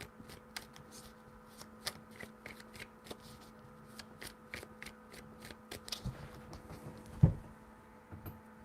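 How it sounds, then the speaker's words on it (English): Tarot cards are shuffled by hand in quick, crisp riffling strokes, a steady patter of soft card slaps close up, ending with one sharper tap as the deck is squared. "Three shuffles."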